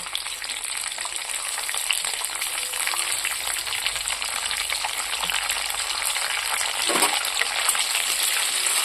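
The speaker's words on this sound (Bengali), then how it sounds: "তো এটাকে আমি ভালো করে ভেজে নেব" Dried red chillies, curry leaves and small onions fry in hot oil in a pan, giving a steady, close, continuous sizzle and crackle with no talking.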